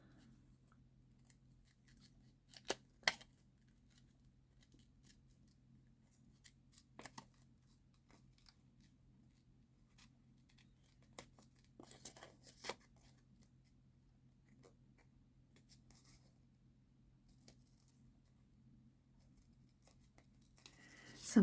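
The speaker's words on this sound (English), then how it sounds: "Speed it up if you don't want to watch me fussy cut this" Small scissors fussy-cut around a paper stamp edge with sparse, faint snips and clicks spread across a quiet room, a few sharper cuts standing out in short clusters.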